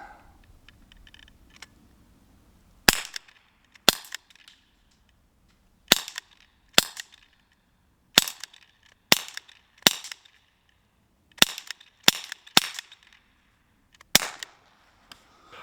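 A Sig Sauer SP2022 pistol fires a dozen sharp, separate shots at uneven intervals, each a crisp loud crack with a short tail. Quiet background between shots, recorded outdoors at close range.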